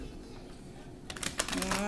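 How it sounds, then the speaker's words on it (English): After a quiet moment, a brief burst of crisp riffling and flapping, like cards being shuffled close by. "I'm going to shuffle."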